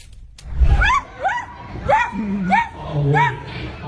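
A woman imitates a dog with her voice, giving a string of about five loud, close yelping barks in an uneven rhythm, with no other sound around them.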